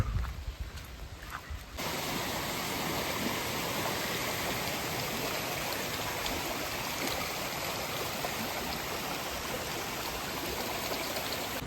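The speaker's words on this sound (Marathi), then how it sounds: "धबधब्याच्या पाण्याचा आवाज तरी यायला लागलाय, म्हणजे आम्ही धबधब्याच्या जवळ आलोय" Vajrai waterfall near Satara roars as a constant broadband rush of falling water, heard from a short distance in a forest setting, after a brief quieter moment at the start.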